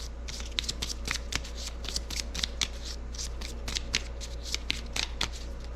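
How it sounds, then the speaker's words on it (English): Deck of game cards being shuffled for a naval wargame setup, a steady run of crisp riffling flicks repeating close and alone, with no talk over it. "Give this one a shuffle."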